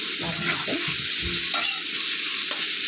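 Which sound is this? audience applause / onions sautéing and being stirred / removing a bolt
onions sautéing and being stirred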